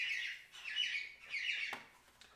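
Birds call outdoors in repeated shrill squawking bursts, three longer phrases in a row followed by a short sharp click and a fainter call, fairly close and with no talk over them.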